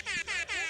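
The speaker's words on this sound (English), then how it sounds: "Where's our air horn sound effect?" A phone app plays an air horn sound effect: three quick, loud, brassy blasts in a row, each cut off sharply, with no talking over them.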